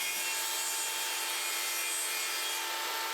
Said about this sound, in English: we can just trim them later with a track saw, as you can see here